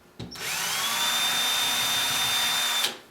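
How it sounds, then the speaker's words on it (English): An electric drill bores a depth-marked hole into a wooden display cabinet in a furniture workshop: one burst of high, steady whining that starts sharply, holds about two and a half seconds, then cuts off. "Then I take my drill."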